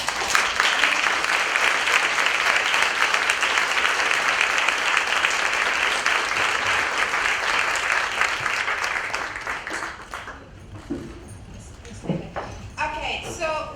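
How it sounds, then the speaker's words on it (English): Audience applause after powerful remarks at a UN Women HeForShe event, a dense, loud wash of clapping that carries for about ten seconds and then fades into scattered claps and room noise. "A round of applause"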